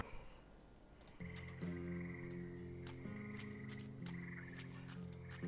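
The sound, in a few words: frog enemy croaking in video game Grimshade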